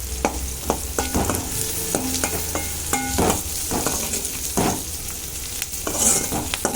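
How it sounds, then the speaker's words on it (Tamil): Onion, chili and curry leaves sizzle in a hot pan while a spoon stirs and scrapes them, with repeated clinks and knocks over continuous frying noise for the Tamil cabbage carrot side dish. "எல்லாத்தையும் போட்டு நல்லா வதக்கிக்கலாம்"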